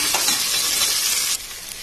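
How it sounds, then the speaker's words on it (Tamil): Onions sautéing in a pan for mint biryani, a steady hiss of frying with scraping stirs, close and fairly loud, cutting to a quieter sizzle near the end; no talking. "வெங்காயம் ஓரளவுக்கு வதங்கிடுச்சுங்க."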